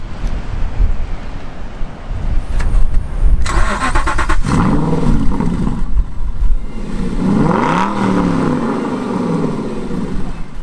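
An Aston Martin V8 Vantage Roadster engine cranks and fires up with a loud roar, revving up and settling into a deep, throaty idle, with no voices.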